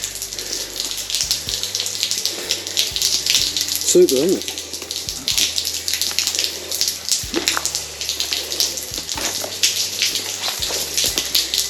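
Fresh water runs steadily down rock near a cave on Castle Crag, a continuous close splashing gush throughout, with a brief spoken remark partway through.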